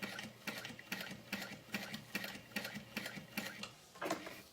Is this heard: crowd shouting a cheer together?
no